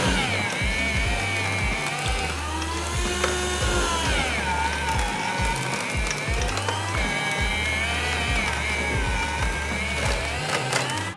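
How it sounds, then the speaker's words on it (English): An electric bread slicer cuts through a frozen bread loaf, giving a steady, loud mechanical whir with repeated low rhythmic pulses and a scraping, grinding blade sound running throughout. "now I bring one of my favorite gadgets that I use the most. The bread slicer"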